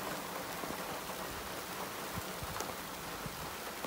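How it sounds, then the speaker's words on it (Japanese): Heavy rain drums steadily on a car roof and windows, heard from inside the vehicle, a dense continuous patter with a few louder drops. "ちょっと雨が強いので、車内から撮影をしておりますが"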